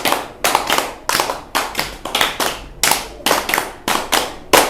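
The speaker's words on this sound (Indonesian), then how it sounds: "Oke, tepuk tangan buat kita semuanya." A group claps in a sharp, rhythmic pattern during a teacher training session, with loud synchronized bursts in short sets and brief gaps between them.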